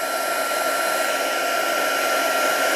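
An embossing heat tool running on its second setting gives a steady, loud, close whoosh of hot air like a hair dryer, unbroken and with no voices.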